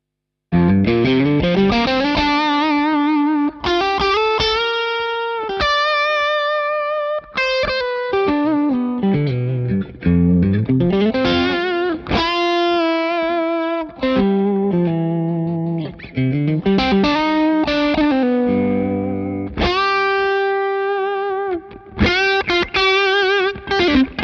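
Electric guitar through a Greer Lightspeed organic overdrive pedal with the tone knob turned down, producing a loud, warmer and darker overdriven tone as sustained single notes and bends ring out one after another.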